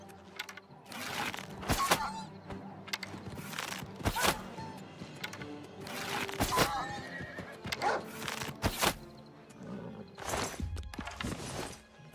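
A horse whinnies several times in bursts in the video game Oblivion, with hoofbeats and game sound effects around it; no talking.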